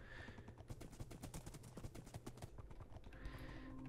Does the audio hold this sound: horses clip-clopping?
yes